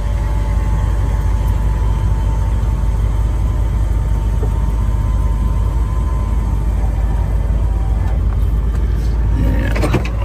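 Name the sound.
car blower motor running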